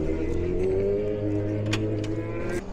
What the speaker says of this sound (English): First garage rollout on our fancy new superbike.